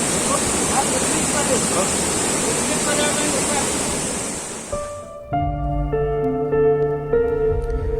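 The Asurkhol waterfall in Keonjhar, swollen after rain, roars as a loud, steady broadband rush for about five seconds. It then gives way to tonal music.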